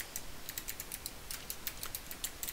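Keywords typed on a computer keyboard: quiet, quick clicking keystrokes in uneven bursts, close and soft, with no voices.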